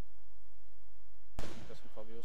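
Gunfire erupts in the Arma 3 military shooter after a near-silent opening, a sudden loud burst of rifle shots and game noise that continues busily to the end.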